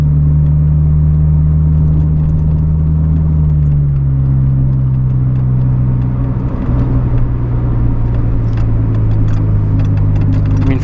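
Inside a 1993 Honda Del Sol Si on the road, a steady, loud low drone of engine and road rumble fills the cabin, with the pitch easing slightly partway through and faint knocks from bumps in the road.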